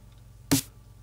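A single dry glitch hop snare hit with no effects, made in Reason, short and punchy with a bright noisy crack, standing alone against near silence.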